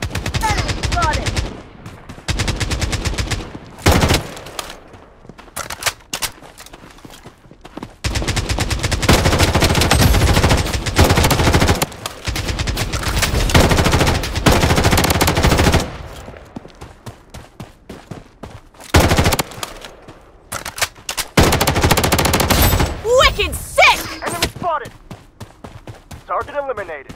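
Dense bursts of automatic gunfire and single shots in the shooter game Blood Strike, loud and repeated in clusters with brief gaps, while in-game voice callouts sound over the action.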